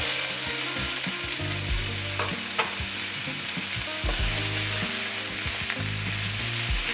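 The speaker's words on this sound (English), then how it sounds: "I'll add in my onions." Onions frying in a pan with tomatoes and herbs over medium heat, a loud, steady close sizzle broken by stirring scrapes and clanks against the pan, with no talking.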